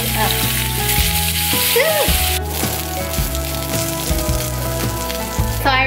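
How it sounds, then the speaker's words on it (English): Salmon sizzles skin side up in a hot pan, a steady, close crackle and spatter that runs without a break throughout. "I'm gonna add the salmon with the skin side up."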